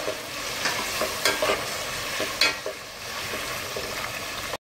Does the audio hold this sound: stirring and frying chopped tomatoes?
yes